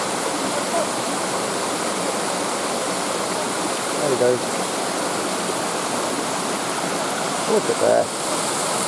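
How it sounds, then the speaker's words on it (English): A massive waterfall cascades down a long drop in the outdoors, a loud, unbroken roar of rushing water filling the scene, with someone briefly speaking over it twice. "That waterfall is massive really. Cascades all the way down."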